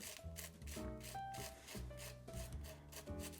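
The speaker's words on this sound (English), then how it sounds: "just easily rub your finger over it" A fingertip rubs dried salt crystals off a watercolor painting, giving a steady, close dry rasping scrape in repeated strokes of about half a second each, with no talking.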